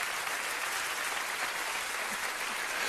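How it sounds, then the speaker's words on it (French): Steady, dense applause from a theater audience after magician Dani Lary's pendulum cutting-in-three illusion, sustained and even throughout with no voices over it. "On t'applaudit encore très fort."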